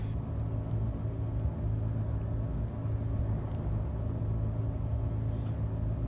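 A vehicle in the video game Space Engineers drives along with a low, steady engine rumble that stays at an even volume, with one brief high chirp near the end.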